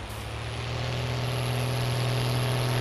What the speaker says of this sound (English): I hope these tractors still aren't too loud. They sound bloody loud, don't they?